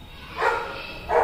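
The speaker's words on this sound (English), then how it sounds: "I'm sorry about that dog barking." Dog barking indoors, two loud separate barks close by, with a short gap between them.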